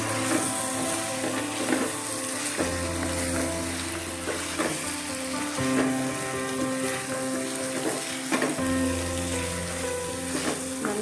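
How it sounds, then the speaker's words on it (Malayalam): Chicken sautés with ground masala in a pan, giving a steady crackling sizzle with small spitting pops, close and continuous throughout, under faint background tones. "പൊടിച്ചു വെച്ചിരിക്കുന്ന മസാലയിൽ പകുതി ചേർത്ത് കൊടുക്കാം മസാല ഇട്ട് നല്ലതൊന്ന് വഴറ്റാം"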